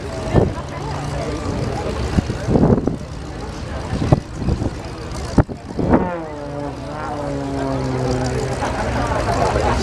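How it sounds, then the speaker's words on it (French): A propeller airplane performs at an air show in Chartres, its engine droning and shifting in pitch as it passes, with a commentator talking over the aircraft noise and the crowd. "c'est un avion qui a un peu de marche arrière"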